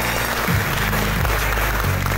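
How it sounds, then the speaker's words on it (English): An audience at a college coronation applauds the class kings and queens, a sustained wash of clapping under faint low background tones. "let's give our class kings and queens a round of applause"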